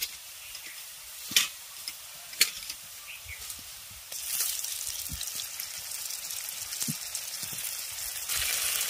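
Fried onion in a pan sizzling with ginger paste and garlic paste added, a soft steady hiss with a couple of sharp clicks early, the frying growing noticeably louder partway through.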